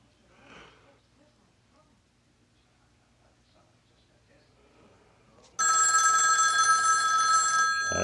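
A rotary telephone's mechanical bell starts ringing loudly partway through, a continuous metallic jangle after a faint snort and quiet room noise.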